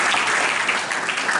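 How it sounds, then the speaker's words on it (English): A crowd claps warmly and continuously for a young woman after she shares an emotional story, a thick, even burst of applause with no talking over it. "give a big round of applause for her"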